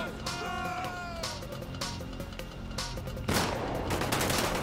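Gunfire from a police SWAT shootout in the video game GTA 5, with rapid bursts of shots crackling loudly and close, then a heavier noisy blast, over a player's voice talking.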